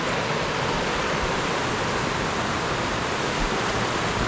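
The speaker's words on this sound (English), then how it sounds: "I also love the sound of rushing river over rocks." A creek rushes over rocks in a forest setting, a constant broadband roar of water that stays steady and fairly close, with no voices over it.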